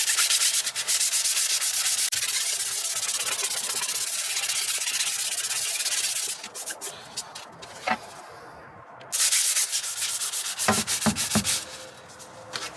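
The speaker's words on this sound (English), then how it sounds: "we're going to use 320 grit and we're going to work it back up." A car interior trim panel is sanded by hand with 320 grit sandpaper, giving close, rhythmic scratchy rubbing strokes with short pauses and a few louder scrapes.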